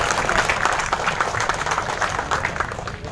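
An audience claps steadily at a formal ceremony in Banda Aceh on the handover of UIN Ar-Raniry and USK assets, a dense, even wash of many hands that carries on without a break.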